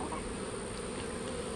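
Honeybees buzz steadily around an open builder hive set up for queen rearing, fitted with a queen excluder. The hum is dense, continuous and close, with no talking over it.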